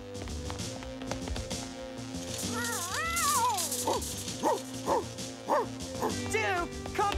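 Cartoon dog barking and yipping in short sharp bursts, several yaps spaced through the second half, over animated background music and sound effects.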